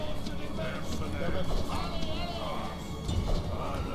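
Cavalry horses gallop in a Total War Rome Remastered battle, a busy patter of hoofbeats mixed with clashing battle noise, while a French-speaking voice talks over the action.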